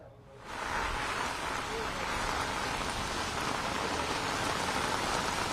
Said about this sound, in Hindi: जो रिमझिम बारिश का दौर था मूसलाधार बारिश के अंदर बदल चुका है